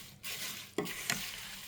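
A homemade herbal hair oil mixture is stirred in a container, giving soft sloshing swishes with a couple of brief scraping knocks, faint and close.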